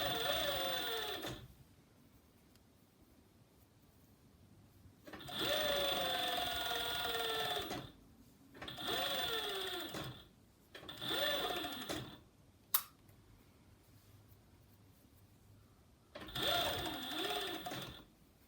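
A sewing machine stitches the sleeve of a wrap dress in five separate runs of steady mechanical whirring, each lasting a second or two, with quiet pauses between them.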